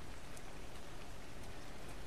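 Steady rain pours in the video game Ark Survival, a dense, even hiss of falling drops that fills the whole stretch, loud and continuous with no talk.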